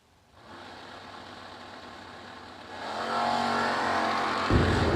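Race cars run on a track during a racing event, with a continuous engine drone that swells and grows louder toward the end, with no talking.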